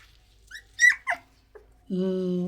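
Native Indian puppies, two white and two black, give short high whimpers and yips, then a sustained whining cry close by, with quiet gaps between the calls.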